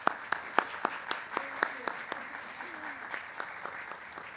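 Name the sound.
audience applause welcoming speaker to podium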